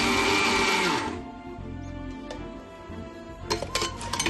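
A mixer grinder whirs loudly, grinding roasted coconut chutney for about a second before cutting out, followed by quieter rattling and a few clattering knocks of the jar being handled.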